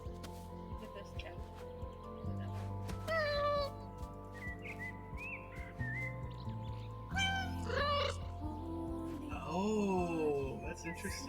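Cats meow repeatedly in the video game Calico, with several rising and falling mews and a drawn-out caterwaul over steady game music.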